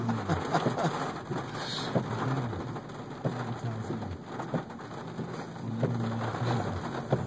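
Rain falls steadily during a storm at desert campgrounds, a constant patter on surfaces with low rumbles beneath and a few cooing bird calls scattered through.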